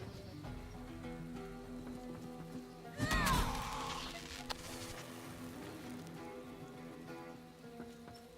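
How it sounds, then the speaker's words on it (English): A blood rain spell from the video game Divinity Original Sin 2 patters steadily like rainfall under game music, with a sharp splashing burst partway through. "Oh, thanks for the blood rain."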